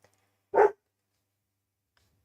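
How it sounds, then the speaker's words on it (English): A single short dog bark rings out close and clear indoors, followed by near silence. "Wolf, that's my dog"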